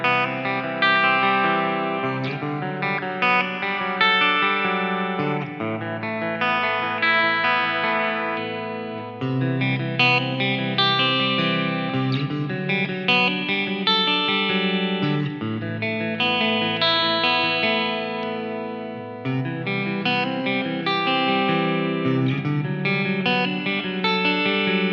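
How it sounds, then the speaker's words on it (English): A Spira S-407 electric guitar plays a clean tone through a UA Heavenly plate reverb, sounding loud and continuous with strummed chords and ringing sustain across the pickup positions. "this is the green channel with the UA Effects Heavenly plate on it"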